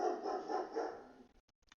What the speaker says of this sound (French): il y a le chien du voisin qui vient me déranger dans ma méditation